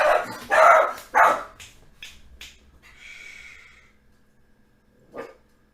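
A little dog barks several times in quick succession nearby, then goes quiet before one last short yip a few seconds later.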